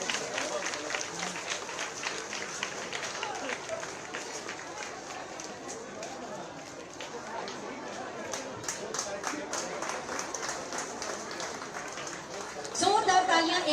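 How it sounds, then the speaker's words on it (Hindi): An audience at a ceremony organized by the Ramashray Gram Vikas Sansthan, with the chief minister present, gives sustained, dense applause that fills the space, while a voice carries on over the clapping. "एक बार जोरदार तालियां रुकनी नहीं चाहिए आप सबकी"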